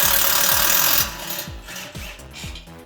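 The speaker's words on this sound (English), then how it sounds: "I'm gonna start taking the bolts out." A power tool drives out exhaust bolts on a Ford F-150 in close, loud bursts: a steady whirring buzz for about a second, then shorter pulsing whirs with brief pauses between them.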